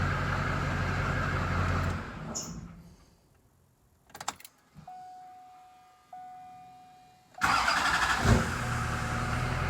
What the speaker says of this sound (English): turn it off, and re-crank it and make sure it cranks